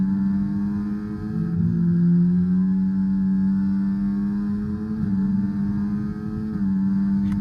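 Renault Formula 1 car engine in the F1 24 racing game, a steady loud harmonic engine drone holding near-constant pitch throughout with small dips, no speech over it.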